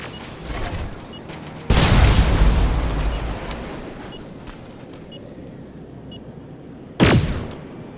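Explosives detonating in the video game Terminator Resistance: a sudden loud, broadband blast that rumbles and decays over several seconds, followed later by a second sharp boom, over low ambient game noise.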